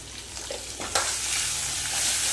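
Turmeric being stirred into hot oil in a frying pan while cooking vendi masala, a steady close sizzle with a brief scrape of the spoon partway through and no talking.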